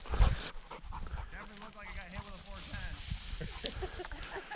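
A hunting dog out on an upland pheasant hunt, panting in quick breaths and letting out faint whimpers, close by, while someone talks over it.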